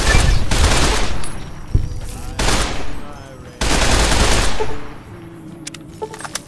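Video game gunfire in Fallout: New Vegas erupts in loud rapid bursts, three long volleys with a single sharper shot between, close and dominant with brief quieter gaps.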